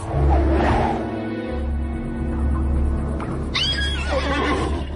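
A frightened horse whinnies near at hand, a shrill rising neigh toward the end over low rumbling and shuffling movement.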